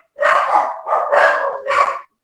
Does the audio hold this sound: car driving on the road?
no